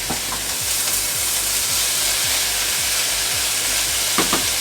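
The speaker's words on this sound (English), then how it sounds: "Going to get those into the pan, just giving them a rinse over in the sink" Rinsed butter beans and kidney beans tipped into a hot pan, setting off a loud, steady sizzle and frying hiss with faint stirring scrapes, no voices.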